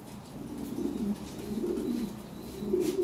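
Lahori Sherazi pigeons at a pigeon farm coo in low, steady murmurs, with several overlapping birds close by and no talk.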